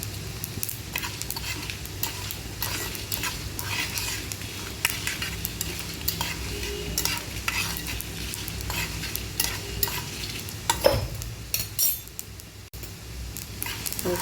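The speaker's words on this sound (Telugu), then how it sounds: "ఈ నూనెలు చిట్పట అనేలోపు మిరపకాయలు కూడా వేడెక్కిపోతాయి." Red chillies and cumin frying in hot oil for a homemade curry: a steady, close sizzle with scraping stir strokes and occasional light metal clinks throughout.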